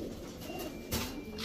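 Soft, low pigeon coos from a pair of pigeons kept for sale, a short murmuring call with a slightly louder burst near the middle, heard alone against faint background hiss.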